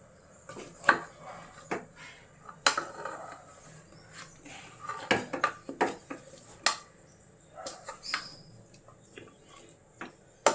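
A spoon stirs curry made with ground spice paste and water in a pot, giving scattered sharp metallic clinks and taps against the pot, close by, with faint talk in the background.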